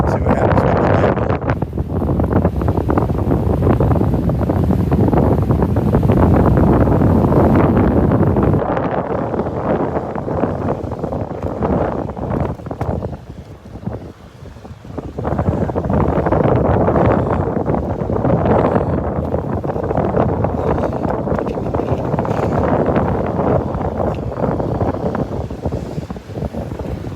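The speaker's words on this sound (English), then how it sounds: "I'm going to walk almost into the wind right now" Strong gusts buffet the microphone on a beach walk at Delnor-Wiggins, a loud continuous rumbling roar that briefly eases midway before surging back, with faint surf beneath and no talk.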